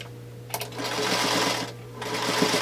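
Quilt pieces are stitched on a sewing machine in short close bursts, a brisk mechanical whirring run that pauses briefly and then starts again.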